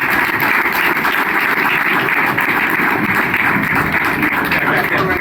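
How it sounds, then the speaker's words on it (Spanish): Audience applause at a book night event, a dense steady wash of clapping from a crowd lasting throughout, fairly loud and continuous with no voices standing out. "Y llamamos a Daniel, un aplauso para Daniel."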